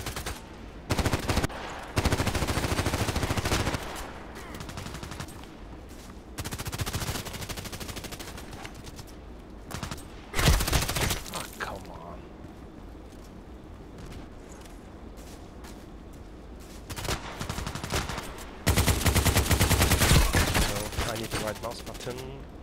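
Machine gun fire in a sniper video game: loud sustained bursts of automatic fire recur several times between quieter stretches of rumbling battle noise and lighter, distant shots.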